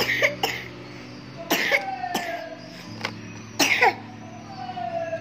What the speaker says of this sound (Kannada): ಕೆಮ್ಮು ಬರ್ತಾ ಇದೆ ಅಲ್ಲ ಮಗನೇ